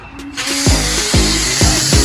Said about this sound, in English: I spray mine from inside out